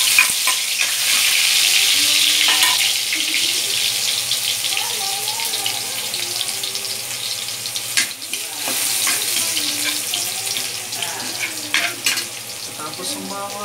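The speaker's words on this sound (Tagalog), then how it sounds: "Magigisa na po tayo ng bawang" Garlic sautés in a pan for chicken curry, a loud, steady sizzle with occasional stirring clinks and scrapes, while a voice talks faintly in the background.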